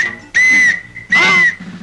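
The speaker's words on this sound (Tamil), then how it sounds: "என்னது போலீஸ் விசில் மாதிரி இருக்கு?" Two sharp, loud police whistle blasts, each about half a second, separated by a short pause, heard alone with no talk.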